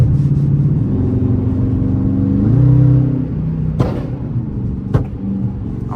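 Flame-tuned Dodge Charger R/T engine on a highway, heard from inside: a steady loud rumbling drone that climbs in pitch as it revs around the third second, then settles, with a couple of sharp clicks or pops.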